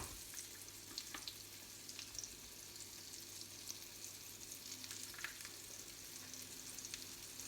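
A vegetarian spicy bean burger coated in breadcrumbs fries in a pan with a steady, close hiss and sizzle, broken by faint crackles throughout and no talking.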